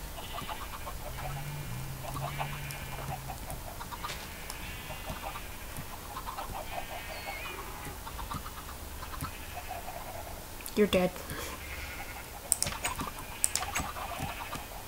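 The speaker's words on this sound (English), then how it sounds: "Where'd this chicken go so that I can kill him?" Minecraft chickens clucking in short, soft bursts within game audio, joined by a few sharp clicks and thumps, with a quiet voice speaking briefly.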